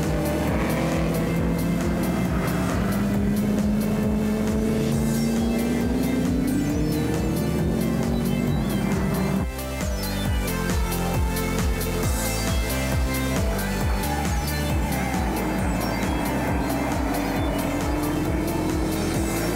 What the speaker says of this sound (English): Henny and Ferdy come out of turn 5 narrowly ahead of the other Mustang and the Nova